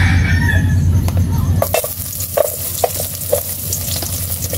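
Garlic sautéed in oil inside a rice cooker pot, a close sizzle with a spoon knocking and scraping the pot in sharp, irregular taps after a louder opening stretch.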